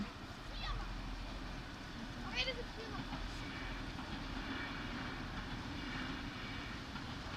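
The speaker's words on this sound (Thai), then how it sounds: "ขบวนรถไฟมาแล้ว ค่ะ รถไฟมาแล้ว สีเหลือง ๆ นะคะ" A yellow train rumbles along the tracks in a steady low roar, with a couple of brief high squeals and a distant voice over it.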